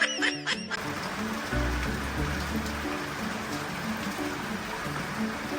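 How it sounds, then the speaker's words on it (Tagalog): Rain falling steadily on a rainy day in Baguio, a continuous close patter on surfaces after a brief clatter at the start. "maulan pa rin nga ang Baguio"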